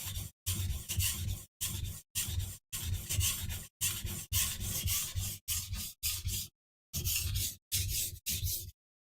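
A knife blade scraped in repeated strokes across an 800 grit sharpening stone, a steady rasping rub in about a dozen close bursts separated by short pauses, with no talking.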